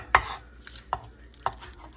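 A knife dices green onions on a cutting board, with three sharp, separate chops spread across a couple of seconds and faint kitchen room tone between them.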